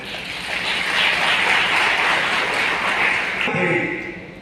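Audience applause at a Seva Bharati Madhya Bharat event launching a mobile vehicle service, a dense, steady wash of many hands clapping that fills the room, then thins and stops near the end.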